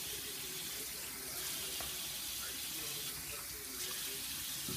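Steady running water from a tap while conditioner is rinsed out of hair, a continuous close hiss with faint splashing and no pauses throughout.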